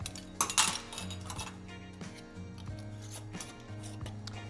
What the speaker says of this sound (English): Now I'm going to screw on the lids.